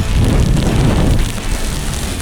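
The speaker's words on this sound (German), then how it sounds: "jetzt regnet es wieder voll durch" Heavy rain pours down on a boat in a loud, dense, continuous hiss and patter, close and unbroken with no voices.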